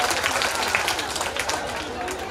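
Audience at a school stage event applauds vigorously after a short play is announced, a dense, continuous wash of clapping for a couple of seconds.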